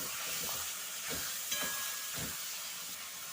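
Ground turmeric, chili and coriander with salt fry in oil in a pan for a Bengali-style egg curry, giving a steady close hiss and sizzle with soft scraping stirs breaking through every second or so.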